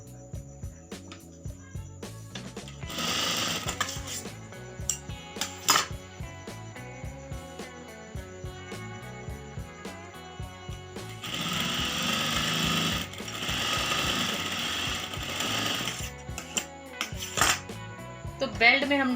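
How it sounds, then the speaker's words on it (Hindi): Sewing machine stitching a belt onto a salwar, running in bursts of steady rapid chatter with pauses and a louder sustained run later, no talking over it. "ये दूसरी साइड से फिर सिलाई लगा दी।"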